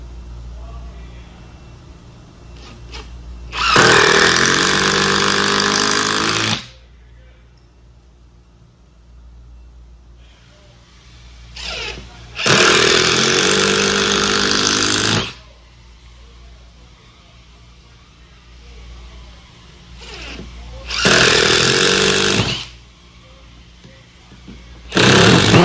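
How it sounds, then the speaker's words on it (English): A Milwaukee Shockwave impact driver hammers screws into 7/64 inch pilot holes about 1.5 inches deep, three loud rattling bursts of several seconds each separated by quieter pauses, with a final burst starting at the end. "Let's start with the Milwaukee Shockwave."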